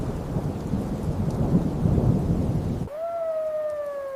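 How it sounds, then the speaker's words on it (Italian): A thunderstorm with heavy rain and rolling thunder fills the scene with a loud, dense roar, then cuts off abruptly into a sustained electronic tone. "la tempesta, il tuono, il fulmine,"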